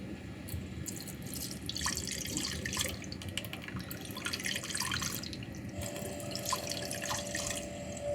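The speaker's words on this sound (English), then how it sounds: "There's a little bit of sediment in the bottom, and I just want to kind of flush it out a little bit." Diesel fuel being flushed out of a sample container to clear sediment: continuous trickling and splashing liquid, close but fairly quiet, with a steady low background hum.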